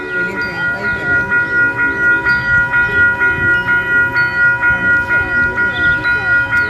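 A train comes up to a level crossing in Waterloo, Canada, where the gate is closed, and a loud pulsing crossing bell or horn tone repeats over the rumble of the rails while people talk nearby.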